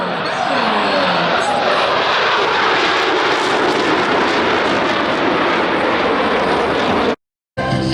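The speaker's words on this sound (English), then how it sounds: "As the formation pulls to level, each pilot will perform an individual brake turn and exit the flight line in a separate direction." Blue Angels jets doing individual brake turns at an airshow produce a loud, continuous jet roar that fills the air for about seven seconds, then cuts off abruptly.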